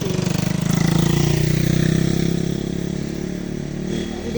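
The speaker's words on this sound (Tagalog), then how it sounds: "may nagagrass cutter, maingay" A grass cutter runs nearby on a farm in Naic, Cavite, its small engine droning loudly and steadily with a pulsing buzz that eases slightly toward the end.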